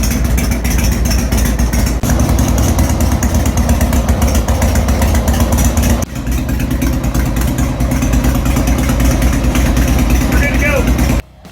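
A Harley-Davidson motorcycle engine idles close by, a loud, steady low rumble with an uneven throb that runs continuously before cutting off abruptly at the end.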